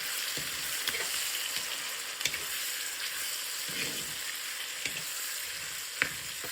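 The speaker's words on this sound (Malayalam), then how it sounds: "നന്നായിട്ടൊന്ന് വഴറ്റിയെടുക്കണം" Curry leaves and green chilies sauté in a pan for an eggplant dish, giving a steady, bright sizzle with occasional soft clicks as they are stirred.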